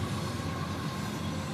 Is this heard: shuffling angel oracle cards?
no